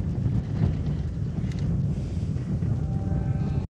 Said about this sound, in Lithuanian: Vėjukas pučia